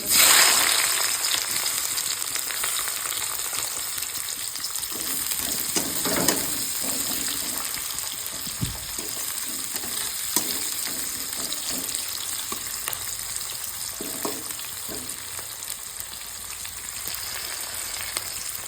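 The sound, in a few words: chopped onion frying in pan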